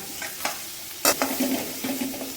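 Small onions and curry leaves sizzle in hot oil for a Tamil curry tempering, a steady close frying hiss broken by a few sharp ladle scrapes and stirs against the pan.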